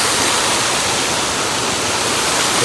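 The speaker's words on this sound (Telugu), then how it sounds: "ఇది ఒక వాటర్ ఫాల్, కింద నీళ్ళు వెళ్తున్నాయి" Water from an indoor waterfall at the new Vizag airport pours down steadily, a loud, unbroken rushing wash of noise with no voices.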